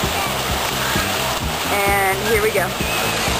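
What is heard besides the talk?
water splashing from a pool slide at a water park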